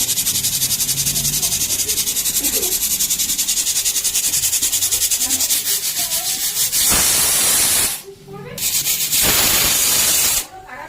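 A pressure cooker on a gas stove gives a loud, close, continuous steam hiss with a fluttering rasp. It surges in stronger whistling bursts toward the end, separated by brief drops.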